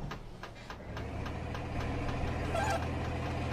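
A tractor engine idling nearby with a steady low rumble and rapid rhythmic knocking ticks, its level rising slightly toward the end.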